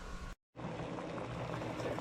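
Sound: eggs boiling in salted hot water

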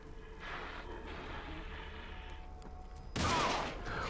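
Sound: Glock pistol gunshots in the video game The Evil Within

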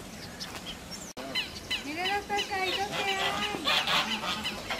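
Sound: wild ducks and geese at a lagoon

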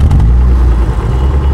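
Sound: car engine revving on street

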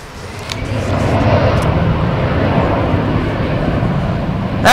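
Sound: American Eagle plane starting its takeoff roll

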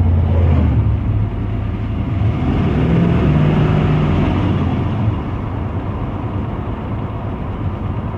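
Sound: Pontiac Trans Am engine driving past

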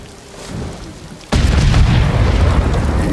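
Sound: fireworks exploding in the video game Ghost of Tsushima

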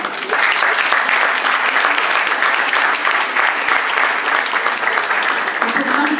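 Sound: applause

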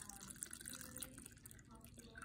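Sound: liquid being poured onto a screen

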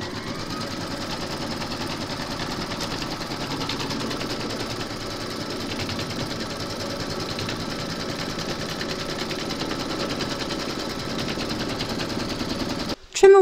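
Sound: embroidery machine stitching a hooped appliqué outline

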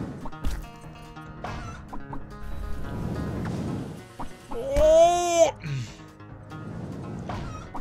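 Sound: chickens clucking in a video game

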